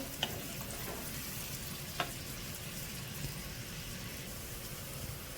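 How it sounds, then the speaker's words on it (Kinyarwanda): Onions fry in a pan with a steady, close sizzle and hiss, broken by a couple of light clinks from stirring. "Dukomeze dukaranga ibitunguru byacu rero."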